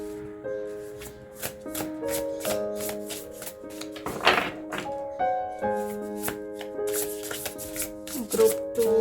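Tarot cards being shuffled and drawn by hand: a dense run of crisp, papery flicks and taps close to the microphone, with soft music sustained beneath.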